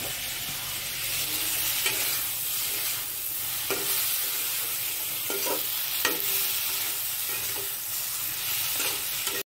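Flat beans frying in a pan, a steady close sizzle throughout with occasional scrapes and taps of stirring, no voices.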